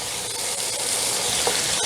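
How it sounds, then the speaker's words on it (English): Steady, bright sizzling of wine reducing in a hot pan, a continuous hiss with a faint stir near the end, close and fairly loud with no talking. "Just a little moisture on the bottom, just sizzling away."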